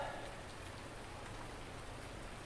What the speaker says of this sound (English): so that's why it's raining now